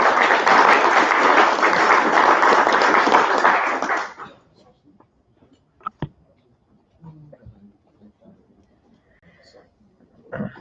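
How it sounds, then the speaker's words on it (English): Applause for a speaker at a Tcl/Tk programming conference, a dense steady clapping from the audience lasting about four seconds before cutting off, followed by quiet room noise with a few faint knocks and murmurs. "round of applause, please, for Shannon Noe"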